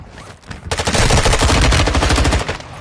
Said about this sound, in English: No way he didn't die by that mortar strike